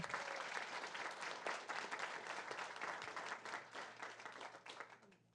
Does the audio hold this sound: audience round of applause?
yes